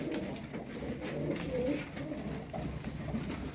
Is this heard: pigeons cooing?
yes